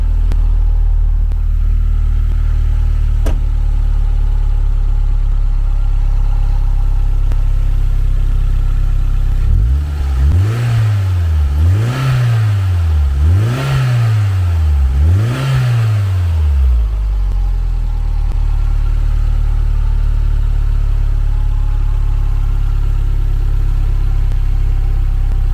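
A 1994 Toyota MR2 GT with the turbo engine idles steadily, then gets four quick revs in a row that rise and fall before settling back to a smooth, close idle.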